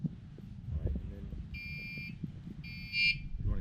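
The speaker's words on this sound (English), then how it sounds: "if you want to hit that alarm, you can hit that alarm." Electronic alarm on a bicycle light, two short high-pitched buzzing bursts sounding over someone talking and background rustle.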